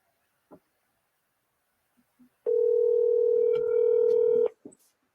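A telephone dial tone rings out as a steady two-second tone while a call is placed to a guest, preceded by a few faint clicks and followed by a brief click.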